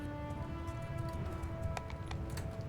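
Mounted horse archers galloping en masse in the Mount & Blade II: Bannerlord battle game, a dense, continuous rumble of hoofbeats with scattered clicks and clatter over a steady game soundtrack hum.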